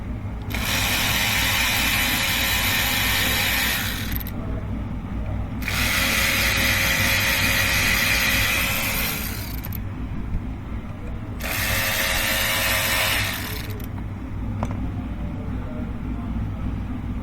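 A power tool fitted with a T30 Torx bit works steering rack bolts on a 2013 Hyundai Elantra, three loud, sustained whirring runs separated by short pauses.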